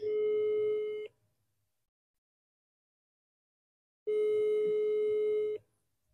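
A phone call ringing out to a father-in-law: two long steady ringback tones, each about a second and a half, separated by a few seconds of silence, clear and alone.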